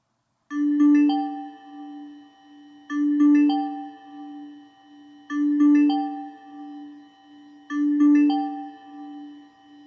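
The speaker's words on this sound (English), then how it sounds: "you'll hear a little alarm go off" A medication dispenser's chiming electronic alarm melody plays four times in a steady repeating pattern, each a short bell-like phrase followed by a sustained tone.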